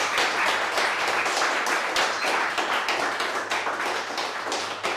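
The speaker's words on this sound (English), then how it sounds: "Thank you very much. Applause." A small crowd claps after a tech talk at an Angular meetup in Vienna, producing a continuous, moderately loud patter of hand claps with no voices over it.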